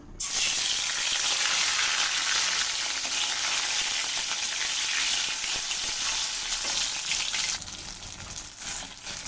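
Kashmiri dhoka lentil cakes fry in hot oil, giving a loud, steady, dense sizzle that runs unbroken throughout, easing slightly near the end.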